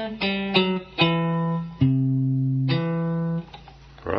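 A slow, twangy cigar box guitar plays the opening melody of "We Wish You a Merry Christmas" in sustained plucked notes, some sliding, solo with clear ringing tones.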